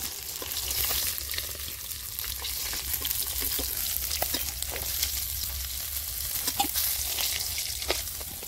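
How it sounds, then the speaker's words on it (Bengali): Fish fry in hot oil in a home kitchen pan, a steady bright sizzle and crackle with scattered pops and stirring scrapes throughout, and no talk. "মাছ ভাজা হয়ে গেছে, তুলে নিচ্ছি।"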